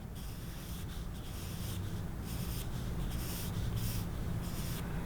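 A pencil scratches lines onto paper in close, quiet strokes, a soft repeated rasping that comes in short bursts with brief pauses between them.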